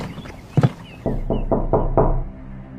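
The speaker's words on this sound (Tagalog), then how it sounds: "Papasok na sana ako sa kwarto nang biglang merong kumatok." Knocks land on a door in a quiet room: two sharp raps, then a steady series of five louder thuds, close and distinct.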